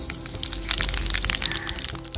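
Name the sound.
mustard seeds spluttering in hot coconut oil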